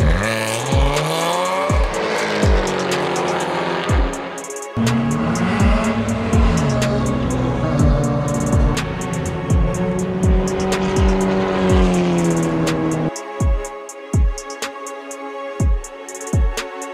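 Race car engines roar in a sim racing endurance game at Watkins Glen, with car number 826 on track; repeated rising and falling revs with sharp gear-shift drops and brief tire squeal, loud and continuous throughout, no talking.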